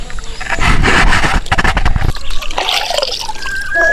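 Water being stirred and mixed by hand in a container before bathing Aseel gamefowl, with steady sloshing and trickling splashes close by and no talking.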